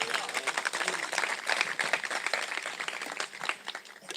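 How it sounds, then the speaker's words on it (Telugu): Audience at a church team retreat night clapping loudly in a dense, continuous burst of many hands, sustained and close, with a voice speaking over it. "గట్టిగా చప్పట్లు కొడదాం."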